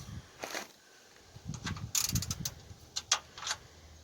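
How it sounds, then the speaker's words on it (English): An old ratcheting gear wrench clicks in short bursts during a driveway oil change on a GMC Envoy or Chevy Trailblazer, with quick metallic ratchet ticks and pauses between strokes, close and fairly quiet, with no voices. "What I got here is a gear wrench"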